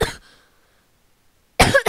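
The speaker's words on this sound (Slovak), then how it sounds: "Prepáčte za to kašľanie, ale som nachladol." Coughing from someone with a cold: a short burst of coughs at the start, a near-silent pause, then another loud, close cough fit near the end, with no talk.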